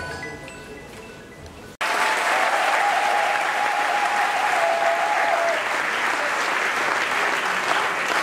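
An audience at an opposition party convention bursts into loud, sustained applause after a brief quieter lead-in, dense clapping filling the hall for several seconds.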